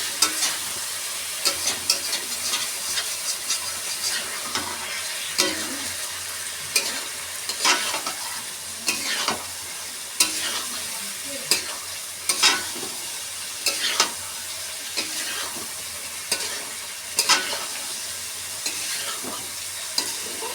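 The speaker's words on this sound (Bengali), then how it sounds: "আদা রসুন বাটা 1 চামচ দিয়ে দেবো। তারপরে কষাতে থাকবে।" Chicken pieces fry and are stirred with ginger-garlic paste in a pan, a steady close sizzle with repeated scraping strokes of the spoon at an irregular rhythm, no talking.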